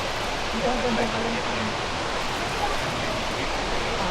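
Multnomah Falls in Corbett, Oregon pours as a steady broadband rush of falling water, with faint voices briefly audible over the constant roar.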